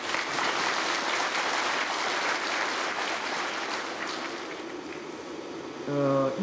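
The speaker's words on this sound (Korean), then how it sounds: "세 분께 여러분 박수 한번 해주시죠" Crowd at a civic rally in Pohang clapping steadily and loudly for several seconds, the applause gradually fading before a voice on the public address begins speaking.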